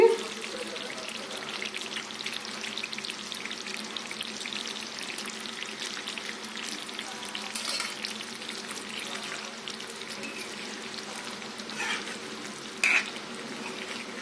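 Steady close sizzling of stuffed eggplant masala curry cooking in a pan, with occasional scraping stirs, continuous throughout.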